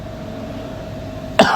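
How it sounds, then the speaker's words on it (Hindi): A single sharp cough bursts out near the end, loud and close, from a man teaching a school maths lesson indoors, after a stretch of quiet room hum. "खांसी भी हो रखा है, ठंडा पानी पी पी के।"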